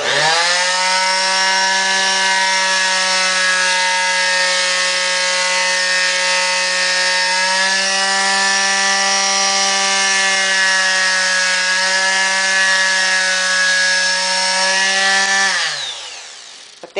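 A power sander running on a scroll-sawn wooden reindeer ornament in a kitchen: a loud, steady, high-pitched motor whine that holds for about fifteen seconds, then winds down and stops.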